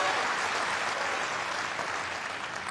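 Tennis crowd at the Australian Open applauding during a women's fourth-round match, a dense, steady patter of clapping from many hands that holds evenly for a few seconds and fades slightly at the end.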